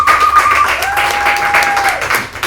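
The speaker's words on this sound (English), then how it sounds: "give yourselves a big round of applause" Studio audience at a talk show claps in a dense, continuous burst, moderately loud and close, with a sustained tone running through and little speech on top.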